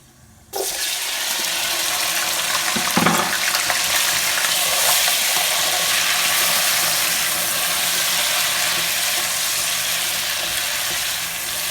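Chicken pieces drop into a hot pan for a korma, and a loud, dense sizzle of frying starts abruptly and holds steady and close for the rest of the clip.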